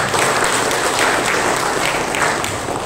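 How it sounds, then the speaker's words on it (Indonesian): Sustained audience applause fills a political party cadre gathering, dense steady clapping from a large crowd, loud and continuous with no talk over it. "Aplaus untuk Mas Fernando"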